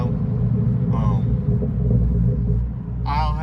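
A 2010 Camaro idles with a Flowmaster Super 10 muffler, giving a steady deep exhaust rumble that stays loud and close throughout while voices briefly talk over it.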